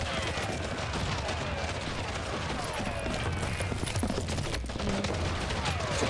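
Gunfire in Call of Juarez Gunslinger, a dense, continuous barrage of overlapping shots and game action, steady and loud from start to finish.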